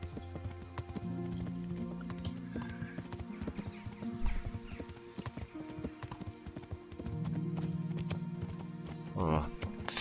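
Rhythmic clip-clop of horse hooves in the medieval video game Kingdom Come: Deliverance, steady throughout at moderate volume, with a brief whinny near the end and background music tones.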